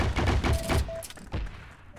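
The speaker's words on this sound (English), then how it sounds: "I hear a big machine gun around here." Machine gun fire in the video game Heroes and Generals: a loud, dense cluster of rapid shots for under a second, a brief pause, then another heavy burst, close and prominent.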